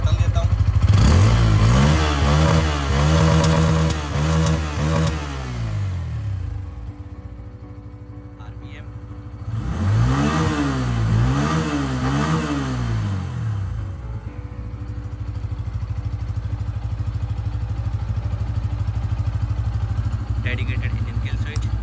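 A 2024 Bajaj Pulsar N160 motorcycle engine with an underbelly exhaust revs up and down twice in quick bursts, the pitch wobbling up and down, then settles back to a steady idle close by.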